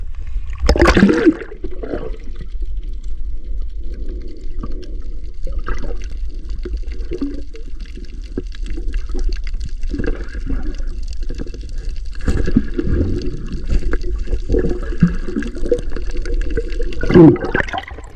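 Rough, murky water sloshing and splashing in uneven surges, with bursts of rougher splashes near the start and end over a constant low rumble.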